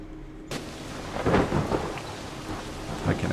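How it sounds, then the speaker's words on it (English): Heavy rain pours steadily in the farming video game Cattle & Crops, with a deep rumble of thunder swelling after a sudden start and continuing under the downpour. "It's raining when I wake up."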